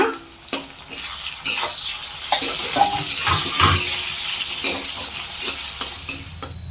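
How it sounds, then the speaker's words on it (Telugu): Onions, carrot, green chillies and tomatoes frying and being stirred in a pan, a steady close sizzle with scraping stir strokes throughout, no talking. "క్యారెట్ పచ్చిమిర్చి అయితే ఫ్రై అయినాయి టమోటాలు కూడా వేస్తున్నా"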